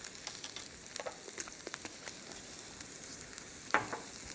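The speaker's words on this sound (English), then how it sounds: "I'm just gonna give that a stir." Food fries and sizzles in a pan while being stirred, with a soft, steady crackle under scattered light pops and one sharper clink or scrape near the end, quiet and close.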